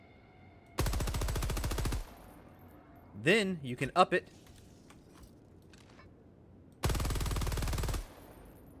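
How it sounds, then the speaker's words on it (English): Two long bursts of extremely rapid machine gun fire from a stratagem weapon in Helldivers 2, a blurred buzzing stream of shots, with a person speaking briefly between them. "you've been hearing these guns that fire like extremely fast"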